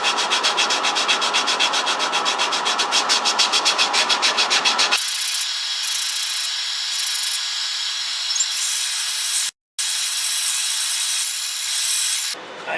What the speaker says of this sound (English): I know it's hard to hear me over that dust collector